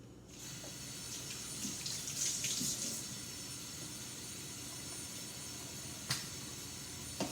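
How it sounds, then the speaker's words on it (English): Hands are washed under a running sink faucet, a steady close splashing rush of water with small shifts as the hands move through the stream, and no talk. "So let's begin by washing hands."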